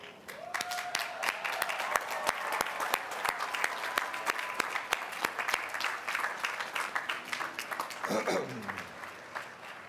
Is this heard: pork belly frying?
no